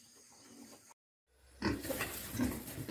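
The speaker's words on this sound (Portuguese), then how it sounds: "Olha o tamanho que tá os porcos." Pigs grunt and squeal on a pig farm, a cluster of close, loud snorting grunts following a brief silent gap.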